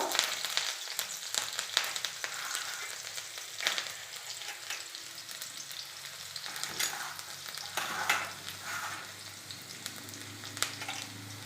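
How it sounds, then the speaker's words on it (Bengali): Chopped green chillies fry in hot oil while a spatula stirs them, giving a steady close sizzle with frequent scraping strokes and clatter throughout, and no talking. "কাঁচা লঙ্কা কুচানো, এবার খুন্তি দিয়ে নেড়ে নেব।"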